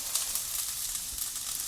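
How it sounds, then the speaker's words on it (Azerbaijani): Roughly chopped onions sizzle steadily in hot fat as they caramelize for homemade burgers: a continuous, close, crackling hiss with no talking. "Karamelizə eləmək üçün, düzdür, mən dəhşət incə doğramamışam."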